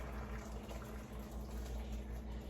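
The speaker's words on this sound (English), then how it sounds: "I think I put too much water in." Water pours into a pot for onion soup in a home kitchen, a steady moderate splashing and gurgling fill heard close and alone, without talk.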